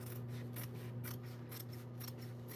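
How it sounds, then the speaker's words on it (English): Fabric scissors snip through sewing seam allowances in a quick, steady series of close, crisp cuts over a low background hum. "So I'm gonna trim all of these seam allowances about halfway."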